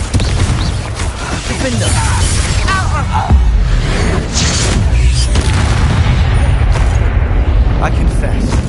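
Confringo blasting spell explodes in the Hogwarts Legacy video game with a deep, heavy boom amid dense continuous battle noise, while a voice shouts over the action.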